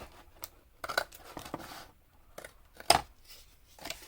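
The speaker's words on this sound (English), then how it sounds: "Let's just cut this lid off" Scissors snipping through the cardboard lid of a box, a series of separate sharp cuts with short pauses between them, close and clear with no talking.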